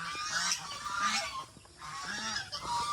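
Geese honk repeatedly up close on a farm, a noisy overlapping chorus of harsh calls with a brief lull before the honking resumes.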